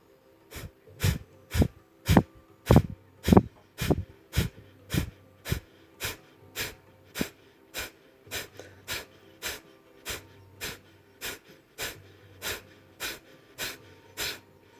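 Sharp, forceful nasal exhalations pulse in a steady rhythm, about two per second, during an energizing yoga breathing exercise, the bursts close and distinct over quiet background, tapering slightly before resuming.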